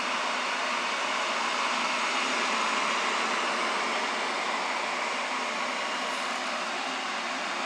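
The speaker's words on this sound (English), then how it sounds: "I can hear it bubbling." Water boils in a Vosen electric kettle, giving a steady, even rushing hiss that holds at the same level for several seconds with no voices.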